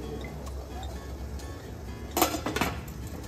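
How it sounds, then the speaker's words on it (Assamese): A steamer pot on a gas stove, being readied for steaming taro, gives a short burst of metallic clinks and clatter near the end, loud and close over a steady low burner hum. "গেছত ষ্টিমাৰ এটা বহাই দিছোঁ, এনেকৈ পানী দি দিছোঁ"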